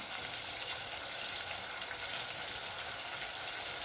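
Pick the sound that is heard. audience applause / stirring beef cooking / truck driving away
stirring beef cooking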